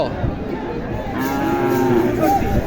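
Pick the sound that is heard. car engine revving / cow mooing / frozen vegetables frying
cow mooing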